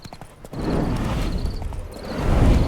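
Horse hooves clip-clop in The Witcher 3, a continuous rhythmic trot of muffled thuds under a low, rumbling game ambience with faint chirps.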